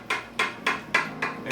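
A knife slices through a baked lasagna, cutting it in half: four sharp, evenly spaced cuts, each a crisp, bright scrape that fades quickly, close and alone with no talking.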